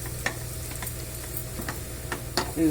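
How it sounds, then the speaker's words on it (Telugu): Beetroot frying in a pan, a steady soft sizzle with occasional light scrapes and taps as it is stirred, close and moderately quiet. "బీట్రూట్ ఈ విధంగా వేగాలి"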